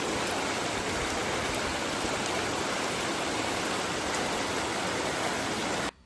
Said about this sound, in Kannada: ಬಟ್ ಇನ್ನೂ ಜೋರು ಮಳೆ ಬರ್ತಾ ಇದೆ